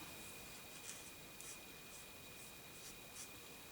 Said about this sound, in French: je vais venir colorier mes petits coquelicots